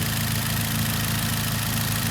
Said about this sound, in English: So yeah, you're just going to listen to the engine a bit.